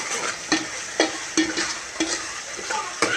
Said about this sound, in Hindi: अच्छे तरीके से इसको करेंगे मिक्स मसाले को